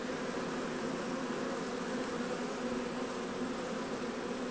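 Honey bees swarm and buzz steadily around an open summer hive, a dense, continuous drone of many wings close by with no talking.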